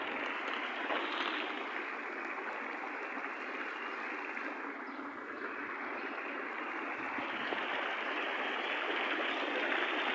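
Continuous hiss and patter of a water sprinkling system in a castle garden at Schwerin Castle, a steady broadband spray that holds level for the whole stretch with no talking over it.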